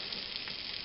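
Steak frying on a Trangia camp burner with the outer ring closed over the flame, giving a steady, close, continuous sizzle with no talk.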